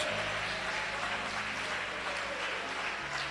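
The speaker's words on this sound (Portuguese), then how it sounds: "Mais forte as palmas para Jesus." A church congregation claps harder in praise, a thick, continuous roar of many hands that stays loud and even throughout, with a faint low drone beneath.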